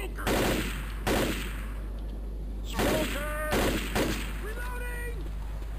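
Guns fire in the zombie shooter Left 4 Dead: several loud, sharp bursts spaced irregularly about a second apart, each trailing a short rumble, with voices calling out between and over them.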